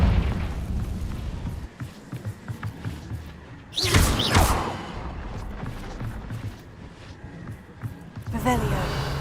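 A Confringo blasting spell goes off in Hogwarts Legacy, a deep booming burst with a crackling tail that rises out of game ambience and talk, followed by a second, fainter rumble near the end.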